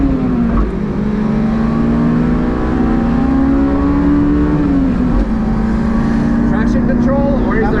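A completely stock Honda S2000 pulls hard on the Nürburgring, its engine note climbing steadily through the revs with a brief dip at a gear change before rising again, loud and close from inside the cabin.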